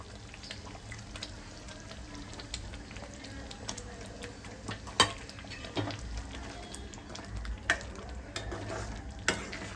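A spoon stirs cubes of paneer into cooked green peas in a pan for restaurant-style matar paneer. Scattered scrapes and clinks sit over a low, steady simmering hiss, with no talking.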